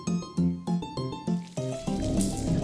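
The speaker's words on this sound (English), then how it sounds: "The splashing means it's working." Liquid pours and splashes in a series of short bursts, then settles into a steady continuous splash, close and moderately loud.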